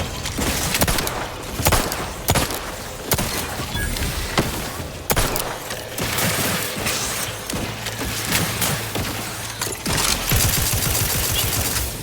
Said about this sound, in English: Shooting at the dead one.